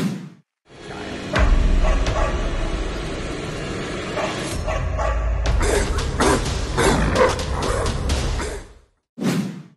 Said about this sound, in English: And this is Beebo's dog named Peebo.